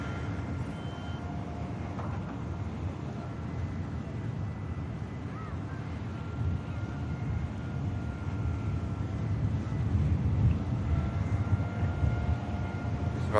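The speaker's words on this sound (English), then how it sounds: "Rather D-rated takeoff from the beautiful blue KLM Neo." A blue KLM Airbus A320neo-family jet taking off at Manchester Airport on a derated takeoff, a broad, distant engine roar that swells gradually toward the end, mixed with wind noise.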